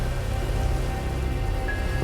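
Heavy rain falling on a house surrounded by large trees, a dense steady patter of drops on surfaces with a deep continuous roar, loud and close with no voices.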